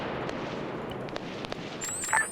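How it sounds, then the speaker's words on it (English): Distant gunfire in a military video game, a scattered series of faint, muffled shots popping over a steady low background rumble. "hold up, why are there gunshots?"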